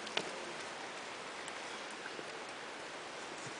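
Steady rain falling outdoors at Glendalough in Ireland, a constant close hiss of drops with a few faint ticks and taps on a nearby surface, and no voices.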